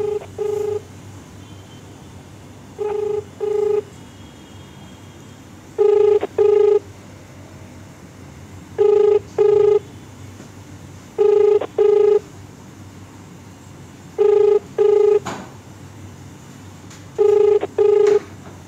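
An unanswered telephone call rings back in paired tones, with about eight loud double beeps at steady intervals over faint background hum and no talking.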